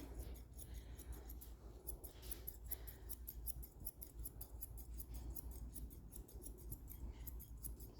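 Grooming scissors trim a dog's chest fur, a long run of quick, quiet, evenly repeated snips close by, with no talking.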